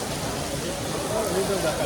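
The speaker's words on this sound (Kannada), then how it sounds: "ಇಷ್ಟು ಜೋರು ಮಳೆ ನೋಡಿ" Heavy rain pours at Tirumala, a dense, unbroken hiss that fills the whole stretch evenly, with faint voices mixed beneath it.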